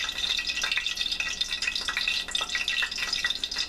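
Tofu stir fry sizzles and spits in a hot pan, a bright crackling hiss with irregular pops and splatters throughout, fairly close and with no talking.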